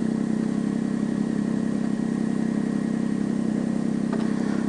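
An old motorcycle idles steadily and close by with an even, low, throbbing engine rumble, constant and unbroken, with a faint click near the end and no talking.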